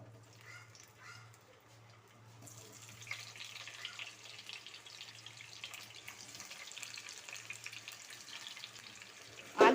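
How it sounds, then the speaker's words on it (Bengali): Turmeric- and salt-coated potatoes frying in hot mustard oil in a wok, a steady soft sizzle rising after a quiet start and continuing alone at low level, with a brief louder clatter at the end. "এবার তেল গরম হয়ে এলে নুন হলুদ মাখানো আলুটা এর মধ্যে দিয়ে দিচ্ছি"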